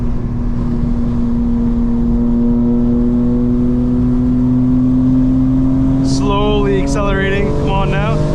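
A 2025 BMW M4 Competition accelerates, heard from inside as a loud, steady engine hum whose pitch slowly rises, with a voice speaking briefly over it near the end.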